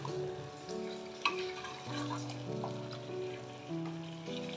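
Chicken sizzling as it fries in a pan for a restaurant-style onion chicken masala curry, a steady close hiss with no talking.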